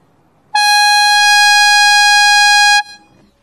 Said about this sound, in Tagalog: ang features ng air horn na to is up to 115 decibel of ear rattling sound